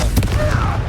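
A Confringo blasting spell explodes in the Hogwarts Legacy video game: a loud, dense burst of crackling blast noise that fills the moment, with a rumbling low end.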